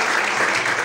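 A brief burst of dense, continuous clapping from a church congregation, loud and even, with no talking over it.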